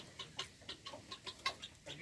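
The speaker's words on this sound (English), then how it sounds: "here's the chickens" Soft, repeated clucking from chickens close by in a poultry pen, short calls in an uneven rhythm, quiet and without talk.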